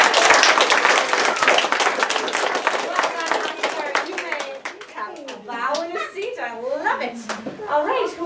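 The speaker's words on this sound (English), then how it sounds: "A round of applause." Second-grade schoolchildren in a classroom give a round of brisk, close clapping that fades after about four seconds, followed by children talking.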